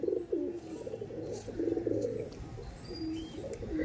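Fulshira Kaldom pigeons in a loft coo steadily in low, rolling phrases, close by and moderately loud, with faint higher chirps now and then.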